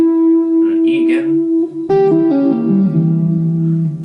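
Guitar chords sounded alone and loud: one sustained chord rings first, then after a short break a new chord enters with a series of quick descending changes that continue to ring out.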